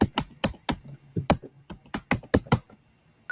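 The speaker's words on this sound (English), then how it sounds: "I think you're typing too fast." Rapid typing on a computer keyboard, about a dozen crisp keystrokes in an uneven quick rhythm, close and clear with no talk, followed by a short pause and one more tap.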